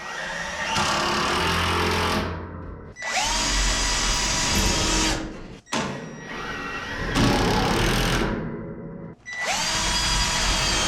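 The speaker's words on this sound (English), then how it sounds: "But I am going to drill all these because I don't want any splitting and cracking here." A power drill whines loudly in four long bursts separated by short pauses, drilling into a wooden shelf, the motor pitch steady and close.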